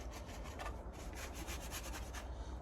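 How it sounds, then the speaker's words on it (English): Sanding back the metal bodywork of a Peugeot J9 van, a close scratchy abrasive rubbing in quick uneven strokes, fairly soft and continuous. "And this, I've got to sand all this."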